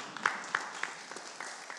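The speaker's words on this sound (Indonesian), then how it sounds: "Masya Allah, tepuk tangan." Scattered claps from an audience at a mosque gathering, a few sharp distinct hand claps over a soft background clatter, brief and moderately close.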